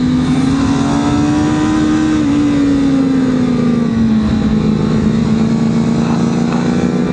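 A CFMOTO 500SR sport motorcycle's engine holds a steady high-rpm drone on a race track, pitch rising slightly then easing, loud and continuous throughout with no talking.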